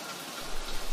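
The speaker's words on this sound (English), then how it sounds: "water miraculously rained over the residence, resulting as a heavy rain" Heavy rain pours in an animated story, a thick continuous downpour with a slight swell in loudness toward the end of the short moment and no talking.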